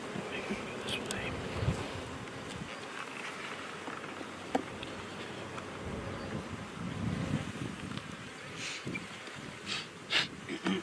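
Honey bees buzz around an open hive during an inspection, a diffuse, fluttering hum outdoors mixed with wind noise and bursts of nearby handling, while people talk now and then.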